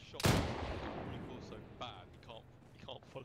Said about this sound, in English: Somebody's shooting at us from the southwest.